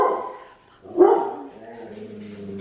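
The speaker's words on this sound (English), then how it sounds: "Told you, barking dogs." Dogs bark at home in a short close burst, one sharp loud bark followed by a fading whine, with a person talking around them.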